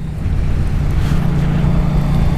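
Yamaha MT-07 naked motorbike engine under way while riding, a steady loud low drone with rushing wind noise throughout, no voices.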